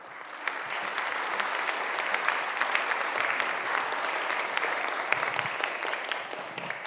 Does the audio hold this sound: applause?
yes